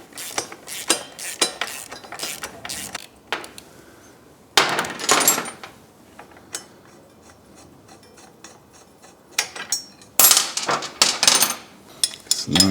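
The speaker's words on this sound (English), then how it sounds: "using a 14mm wrench, an 8mm socket, I'm going to take this bolt out" A bolt is worked loose on a 2024 Triumph motorcycle header with a 14mm wrench and an 8mm socket, producing bursts of sharp metallic clinks and clatter between quieter stretches.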